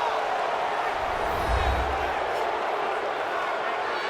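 Stadium crowd in a Madden 20 football game roars in a continuous, dense wall of cheering, a low thump swelling near the middle, with no clear individual voices.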